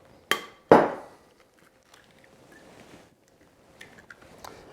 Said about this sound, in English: Put 5 large eggs in a mixing bowl.